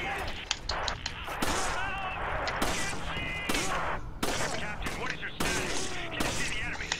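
Rapid gunfire in Resident Evil 5, fired in quick bursts that break off and resume, loud and close, with excited talk over much of it.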